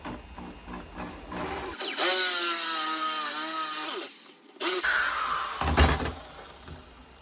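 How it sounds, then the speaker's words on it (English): A power drill whines loudly for a few seconds as it bores a hole into pallet wood, then stops and briefly restarts with a grinding burst. "I'm gonna go ahead and drill out a hole."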